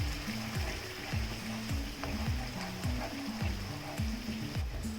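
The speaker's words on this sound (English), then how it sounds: "Let this masala fry for 3 to 4 minutes" Masala sizzles and fries in a pan for lobster curry, a steady crackling hiss with a voice talking over it throughout.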